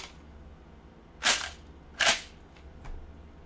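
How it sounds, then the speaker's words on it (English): A plastic toy dart blaster is racked with a shotgun-style pump, giving two sharp, loud plastic clacks about a second apart and a fainter third click, close by in a quiet room. "But it even loads like a shotgun"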